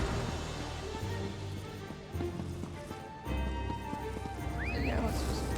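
Horse hoofbeats from riding in Elder Scrolls Online Morrowind clip-clop in a steady rhythm beneath game ambience, with a faint whinny near the end.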